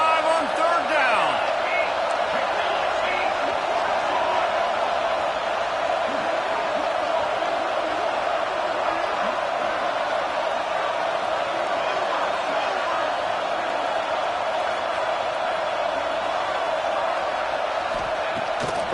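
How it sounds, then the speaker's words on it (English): Ohio State Buckeye football crowd roaring on third down against Michigan, a dense sustained stadium roar filling the whole stretch while an announcer talks over it. "The Buckeye crowd alive on 3rd down"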